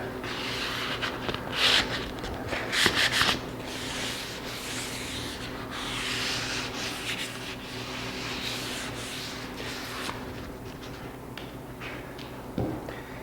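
Hand sanding of a wood finish between coats on a pie safe, soft rhythmic rubbing strokes in short bursts with pauses, fairly quiet and close.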